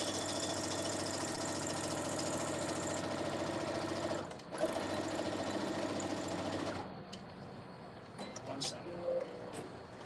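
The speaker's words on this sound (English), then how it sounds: "I just have to sew in the corner here to close off the wall." A sewing machine stitches the corner of an organza fringe handbag, running in a steady close rapid hum for about seven seconds before stopping, followed by quieter handling sounds.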